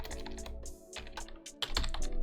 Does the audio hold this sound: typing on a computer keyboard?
yes